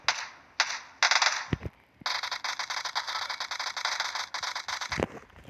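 Gunfire in the mobile battle royale game PUBG Mobile: loud, close bursts of rapid automatic shots, first a few short volleys, then a long sustained rattling stream ending in a final burst, with no voices.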